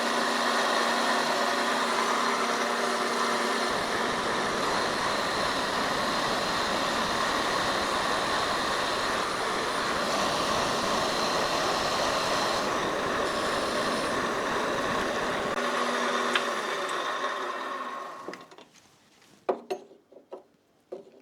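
A machine drones steadily and loudly as it cuts a metal bar down to 34 mm diameter in a workshop, then winds down and stops, leaving a few faint clanks.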